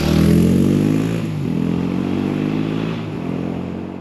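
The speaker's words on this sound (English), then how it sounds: "I'm going to show you how to take your stock WR250R from sounding like this" A stock Yamaha WR250R motorcycle engine idles and runs with its exhaust note, steady and close, with a brief throttle blip near the start and small dips in pitch along the way; no talking.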